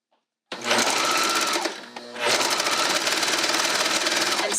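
A sewing machine stitches a t-shirt, starting abruptly from silence into a loud, fast, steady whir. It dips briefly in the middle and then picks up again, continuing alone and close.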